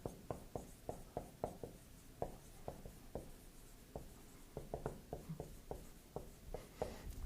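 Chalk tapping and scraping across a lecture-hall board in a steady run of sharp, close strokes, about two dozen over several seconds, with no talking over it.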